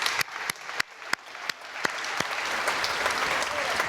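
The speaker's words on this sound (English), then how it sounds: "please give yourself a round of applause" Graduation audience of the class of 2023 at a design school ceremony applauding, a few sharp claps at first building into steady, dense applause that carries to the end.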